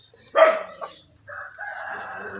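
A rooster crows once, fairly distant and moderately loud, followed by softer clucking and faint bird chatter in a quiet outdoor setting.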